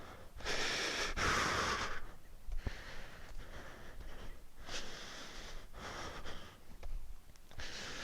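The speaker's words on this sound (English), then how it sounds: "Get some nice deep breaths in here." Deep, heavy breathing during an at-home workout, several long audible inhales and exhales spaced across the stretch, fairly close and alone without talk.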